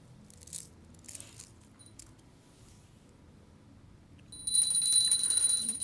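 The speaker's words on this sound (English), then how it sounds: "Please ring the bell as you do so." A hand bell rung during a Hindu incense offering, with faint high ringing at first, then a loud, sustained bright jingling peal in the last second and a half.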